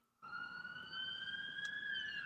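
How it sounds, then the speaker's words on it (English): A siren wails in from silence, a sustained rising tone with bright overtones holding steady, moderately distant. "now a siren's going off"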